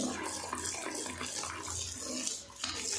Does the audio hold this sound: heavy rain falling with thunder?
no